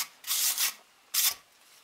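Charred pine wood is scrubbed with a brush in two close, rasping bursts: a longer double stroke, then a short single stroke, with quiet between them.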